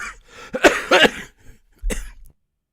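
A person coughs several times in a short burst, harsh and close, followed by one more cough after a brief pause.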